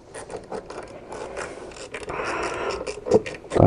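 A ratchet wrench turning during an oil change on a 207 1.4 HDI, a close series of quick clicking and scraping mechanical bursts with louder knocks toward the end, without talk.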